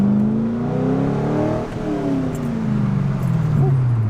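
A C5 Corvette's LS V8 exhausts while driving, its deep rumbling drone holding steady with a rising and falling pitch as the engine works, loud and close throughout.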